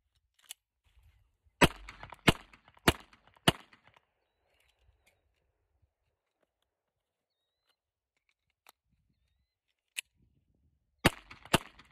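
A pistol slide is racked one-handed to clear a vertical stovepipe malfunction: sharp, close metallic clacks come in quick bursts of four, then a single snap and another tight cluster, with near silence between.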